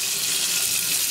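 Hot water runs steadily from a tap into a porcelain sink, a continuous broadband hiss and splash, close and fairly loud, with no talking.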